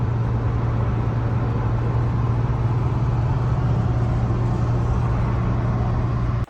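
A 1989 Nissan 240SX, bought with frame damage and a smashed windshield, with steady engine and road noise filling the whole stretch, loud and close with a constant low drone and no pauses.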